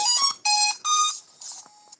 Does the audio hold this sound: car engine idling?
no